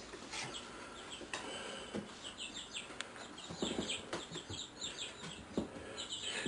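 Chickens cluck and chirp softly in scattered bursts, a little distant, over a faint background hiss with occasional clicks.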